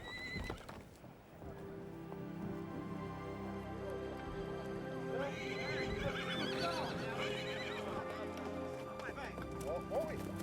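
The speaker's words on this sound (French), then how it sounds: "Un magnifique étalon est attrapé au lasso." A stallion caught with a lasso by cowboys on Ua Huka: horses neigh and whinny with hoof clip-clop amid a busy outdoor scene, while a voice talks over much of it.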